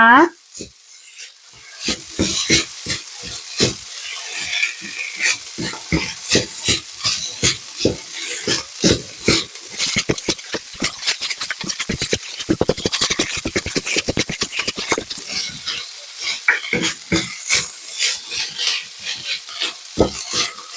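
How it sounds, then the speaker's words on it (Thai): Shrimp paste fried rice with stink beans and sliced chilies being stir-fried fast in a pan, with steady sizzling and dense, rapid scraping strokes of the spatula throughout, loud and close with no talking. "แล้วเราก็ผัดเร็วๆให้เข้ากันอีกรอบค่ะ เราจะผัดจนสตอเขาสุกนะคะ"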